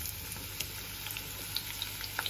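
Onion sizzles in hot oil in a pan, a soft, steady frying hiss with small scattered pops and crackles, heard close and fairly quiet.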